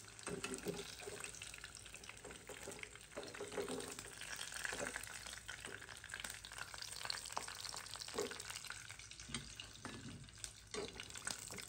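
Snacks such as dal puri deep-fry in hot oil with a steady, faint, continuous sizzle and bubbling crackle that lasts throughout, with occasional soft stirring noises and no talking.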